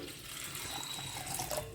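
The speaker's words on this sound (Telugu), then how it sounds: "గిన్నెలో ఈ రెండున్నర గ్లాసులు నీళ్ళు పోసేసుకోవాలి" Water pours steadily into a pot with a soft, continuous rushing splash, fairly quiet and close by.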